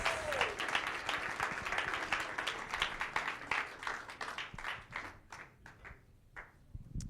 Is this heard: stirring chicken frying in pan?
no